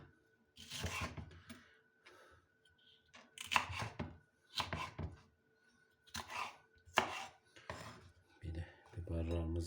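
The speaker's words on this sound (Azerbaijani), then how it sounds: "Biberlərimizi də doğradıq." Knife chopping peppers on a cutting board for a shepherd's salad, a series of quick bursts of close, crisp taps separated by short pauses, with light handling noise between them.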